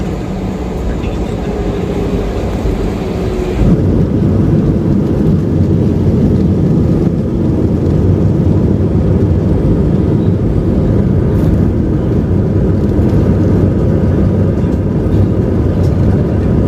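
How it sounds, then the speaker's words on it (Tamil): Passenger airplane taking off on a flight to Malaysia, heard from inside the cabin as a loud, steady, broadband engine roar that swells slightly and then holds without pause. "ஃப்ளைட்டுமே டேக் ஆஃப் ஆயிடுச்சு"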